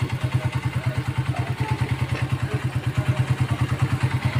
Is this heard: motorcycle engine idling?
yes